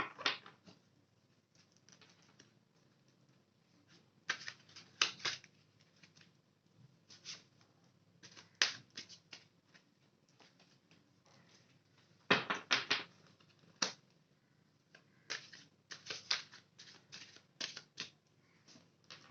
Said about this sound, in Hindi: एक बार मैं ये सारे कार्ड शफल करके यहाँ पे रख दूंगी